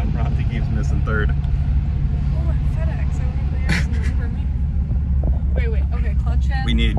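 A Subaru with a manual stick-shift transmission being driven, a steady engine rumble and road noise inside the car under continuous talk and some shouting.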